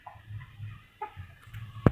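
A hen and a large rooster clucking in a yard, soft intermittent low clucks spaced across the moment, ending with one sharper louder sound.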